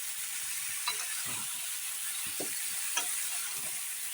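Vegetables with bottle gourd greens and eggplant frying in a pan, a steady close sizzle throughout with a few soft scrapes and clicks of a spoon stirring.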